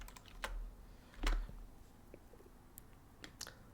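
Typing numbers on a computer keyboard makes a few soft, sparse clicks and taps, close by and quiet, spaced irregularly across a few seconds with no voice.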